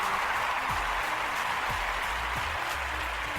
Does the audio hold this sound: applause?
yes